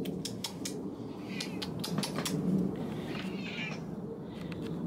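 A house cat meows several times in short, rising calls, moderately close, over a low steady background hum; no talking is heard.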